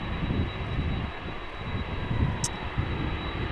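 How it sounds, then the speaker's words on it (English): A Suparna Airlines airliner rumbles on its takeoff roll, a steady, moderately distant engine roar with a thin tonal whine above it and no talking. "Suparna Airlines lined up and ready to go"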